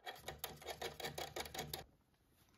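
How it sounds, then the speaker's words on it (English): A small wrench works a little nut off an inverter terminal, giving a quick run of close metallic ratcheting clicks in an even rhythm that stops short. "there's a little nut here, and we can take our included wrench and get that off"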